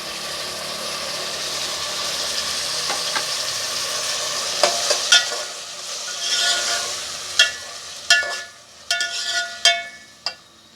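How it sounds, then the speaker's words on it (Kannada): Tomatoes added to onions softened in oil sizzle steadily, then a run of sharp clinks and scrapes from stirring near the end, with no voices. "ಇವಾಗ ಟೊಮೊಟೊ ಹಾಕೋತಾ ಇದ್ದೀನಿ."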